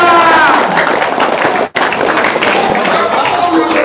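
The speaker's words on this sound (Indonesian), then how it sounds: "Tepuk tangan dong." Audience clapping during a religious talk, a loud burst of applause with voices mixed in, briefly cut off midway and then resuming.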